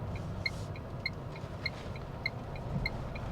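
Tata Altroz CNG hatchback running in second gear at low speed over a speed bump, a steady low engine and road rumble from inside the cabin with faint periodic ticking.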